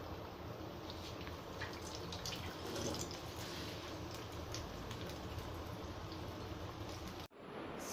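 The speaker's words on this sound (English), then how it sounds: "now I am going to fry those balls" Bread cheese balls fry in oil over a low flame, giving a steady, dense crackling sizzle that fills the whole stretch and cuts off abruptly near the end.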